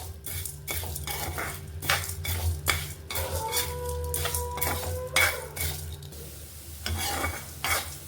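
Karampodi ingredients stir-fried in a pan, a utensil scraping and clinking against the metal in repeated strokes over a soft sizzle, close and fairly loud with no talking.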